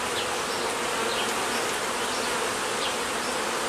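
Honeybees droning steadily inside an opened hive, a dense continuous buzz close by with no pauses, calm rather than agitated.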